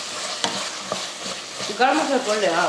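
Vegetables for a veg biryani sauté in a pan with salt while being stirred, giving a steady close sizzle with a few scraping knocks and a voice briefly joining near the end.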